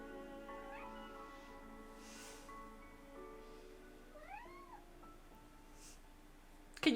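A mountain cat meows in a fantasy video game set in a dragon's lair, giving several gliding mewing calls over soft sustained music with a brief louder burst at the end.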